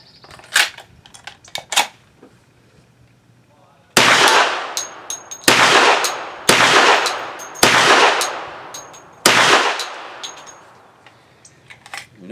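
A Hi Point 1095 10mm carbine fires Double Tap hard cast 230 grain rounds at an outdoor range, a few distant shots followed by five loud, evenly spaced close shots, each with a sharp crack and echoing tail.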